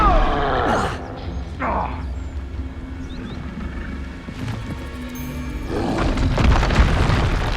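Expulso explosion spells in Hogwarts Legacy go off as repeated deep booms with rumbling tails, punctuated by sharper bursts and busy game sounds throughout.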